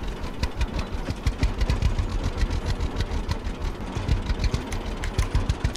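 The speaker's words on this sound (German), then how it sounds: "Oh, hier geht's bergan mit diesem Traktor." A tractor engine labouring uphill in Farmer's Dynasty, a steady loud chugging drone with a rapid knocking pulse throughout.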